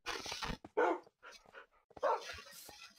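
In the Minecraft video game, dogs bark in a few short, close bursts with small yips between them. Each bark is loud and separated by brief gaps.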